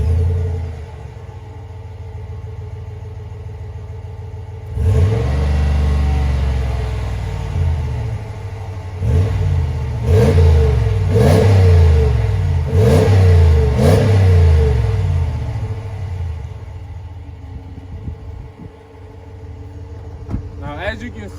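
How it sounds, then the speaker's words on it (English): Ram Rebel 1500 pickup with its 5.7 Hemi V8 and dual exhaust, heard from behind the truck: an idling rumble, then a series of sharp throttle blips and revs that rise and fall, loud and close. "let's just go to the back and hear how that exhaust sounds"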